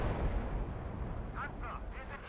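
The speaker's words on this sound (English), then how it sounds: "We're going to put a barrage close to the Mark 8." Artillery barrage in the Gates of Hell: Ostfront video game, a dense continuous rumble of distant shell bursts and booms with low-end roar throughout, while a voice talks faintly over it toward the end.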